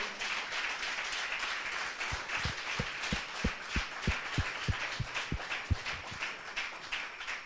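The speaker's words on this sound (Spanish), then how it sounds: "dar un aplauso al Señor" Church congregation clapping in applause for the Lord during a Spanish-language sermon; a steady distant wash of clapping with a run of low rhythmic thumps, like hand claps or stomps, in the middle.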